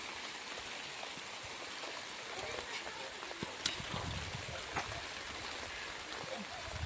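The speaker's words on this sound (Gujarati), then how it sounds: "વરસાદ ચાલુ થઈ ગયો છે" Rain falls steadily outdoors during a monsoon shower, a dense, even hiss close by that holds for the whole stretch, with a few faint knocks and small sounds mixed into the wash.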